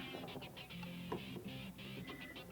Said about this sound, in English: I'm actually going to top stitch the satiny fabric portion down.